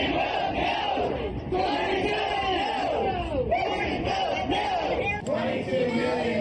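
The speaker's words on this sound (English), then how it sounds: "Republican senators are facing increasingly unruly crowds back home over health care" A loud crowd of protesters chants in unison about health care, rhythmic repeated shouted phrases from many voices filling the clip with no pause.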